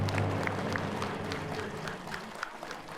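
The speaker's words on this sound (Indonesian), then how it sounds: "Bu Heni tepuk tangan semua boleh." Scattered audience clapping at an Indonesian religious talk show taping, light and fairly distant, with a few louder claps standing out near the end and a low voice murmuring underneath.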